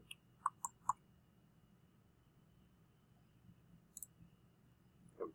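A computer mouse clicks in a quiet room: a quick cluster of three sharp clicks, then a pause, a couple more clicks, and a final one near the end, all crisp and close.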